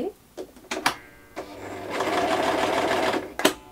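A Toyota RS2000 2D Series sewing machine stitches close by, starting with a few short clattering bursts and then running steadily for over a second before a final clack.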